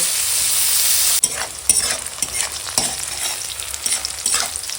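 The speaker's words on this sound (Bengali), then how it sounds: "এখন পেঁয়াজ কাঁচা লঙ্কা একসঙ্গে ভেজে নেব" Onions and green chillies fry in hot oil with a bay leaf, giving a loud, steady sizzle that breaks into a run of scraping stirs across the pan.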